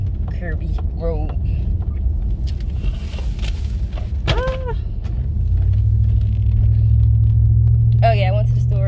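Car cruising along a curvy road, a steady low engine and road rumble that swells louder partway through, with a person talking over it at intervals.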